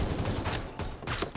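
Faint, distant video game gunfire comes through as a few quick bursts of rapid shots, spaced roughly a quarter second apart, with a soft background hum between them.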